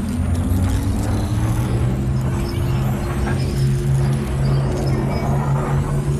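A truck engine idles and whirs steadily in the Fortnite video game, a loud continuous vehicle drone with low harmonic hum throughout and no speech.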